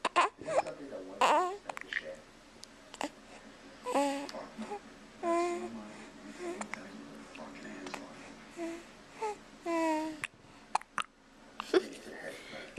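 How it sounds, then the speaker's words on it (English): A baby girl hiccups several times in short, sharp bursts between babbling and soft cries, close and fairly quiet, with a few adult voices talking nearby. "Hiccups."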